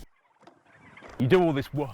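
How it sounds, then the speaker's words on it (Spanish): Farm turkeys gobble close by in a loud warbling burst after a quiet lead-in, with a second shorter gobble following. "Pavos que corren el riesgo de no llegar a la cena de Navidad, algo que a Paul Kelly le molesta."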